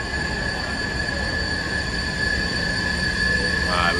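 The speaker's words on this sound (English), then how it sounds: "You know it's noisy right now because they ain't oiled the track." Subway train wheels screech on unoiled track, a loud, sustained metallic squeal over a heavy rumble that continues throughout, heard from inside the moving car.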